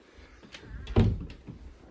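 An airing cupboard door in a house opens with a soft wooden knock and brief rattle, close and fairly quiet, alone without talk.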